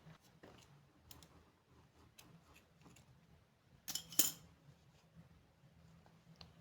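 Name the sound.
scissors cutting off crochet yarn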